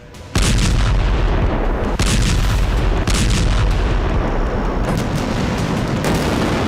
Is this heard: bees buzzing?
no